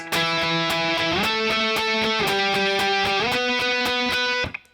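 Distorted electric guitar strums octave shapes from the bridge of a song, steady repeated chopped strokes that step up in pitch as the shape shifts along the neck, loud and alone before cutting off.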